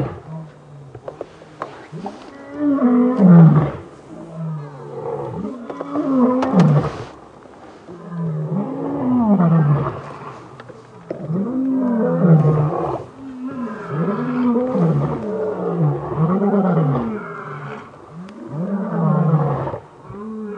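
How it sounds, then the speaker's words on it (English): Lions roar repeatedly all around on an early-morning safari drive in a South African game reserve, a series of deep rhythmic grunting roars rising and falling over about twenty seconds, fairly close and loud, with no talk over them. "We've got lions roaring all around us"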